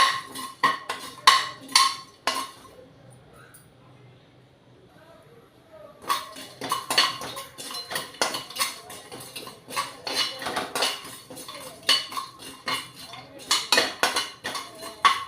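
Cumin seeds being stirred and roasted in a pan for a vegetable biryani and curd chutney, with repeated clinks and scrapes of a metal spoon against the pan, a short lull, then steady stirring again.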